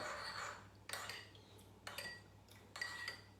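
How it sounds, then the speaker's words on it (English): A spoon clinks and scrapes against a mug while stirring dhokla batter, giving a few short metallic taps and rattles in bursts, close but fairly quiet with no voices. "I'm going to give it a stir."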